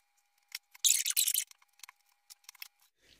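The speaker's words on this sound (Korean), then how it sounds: "일단은 마디 요 밑에 2cm를 잘라 가지고" Scissors snipping water dropwort (minari) stems just below the node, a few sharp close snips with a longer crunching cut near the start, then scattered quieter clicks, in an otherwise silent space with no talk.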